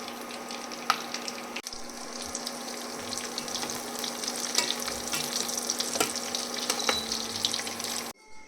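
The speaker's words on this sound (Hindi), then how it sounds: "और इसके बाद में काजू बादाम को भी हम इसमें फ्राई कर रहे हैं।" Cashews and almonds fry in ghee in a pan, a steady close sizzle with scattered pops and occasional stirring scrapes, running continuously before cutting off.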